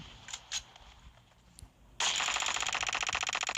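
Rapid automatic gunfire from a PUBG Mobile training session, firing at targets: a few faint shots, then a sudden loud, sustained burst of fast, evenly spaced rounds that continues to the end.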